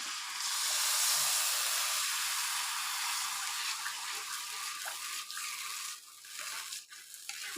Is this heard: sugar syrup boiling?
yes